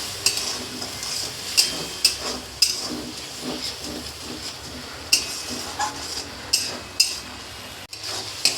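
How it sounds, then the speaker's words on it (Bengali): Spice masala being stirred and fried with a splash of water in a pan for a jackfruit curry: a steady steamy hiss and sizzle under repeated sharp scrapes and clinks of the spoon against the pan. "এবার একটু জল দিয়ে দেবো। মশলাটা যাতে ভালোভাবে কষে নেওয়া যায়।"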